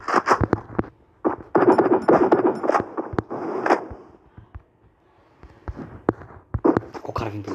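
Rapid gunshots in a video game ring out in sharp, loud bursts with brief pauses between volleys, over a low steady hum.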